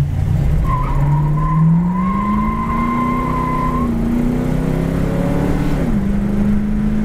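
A 1968 Ford Mustang coupe without power brakes is driven and brought to a stop, with its engine drone rising and falling in pitch over steady road and tire noise, loud and close, with no voices.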